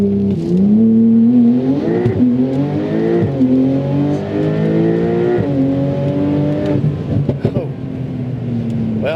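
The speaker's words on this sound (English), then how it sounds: "The acceleration in this car is something you just have to experience." A Stage 4+ tuned Porsche 992 Turbo S flat-six accelerates hard through several gears, its loud close engine note rising in pitch with brief dips at each shift.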